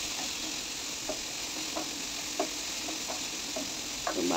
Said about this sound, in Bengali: এটা মানে ঢেকে দেবো না, ঢেকে দিলে আবার জলটা ছেড়ে দেয়, তাই মানে না ঢেকে একটু ভালো করে ভেজে নেব।